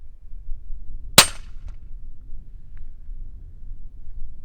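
A single suppressed 300 Blackout rifle shot with factory ammunition, fired close by outdoors: one sharp, bright crack followed by a short fading tail, then quiet background.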